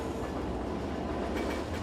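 A refrigerated freight train rolls on rails through Chicago, a steady rumbling roar with a faint clickety-clack of wheels, continuous and close.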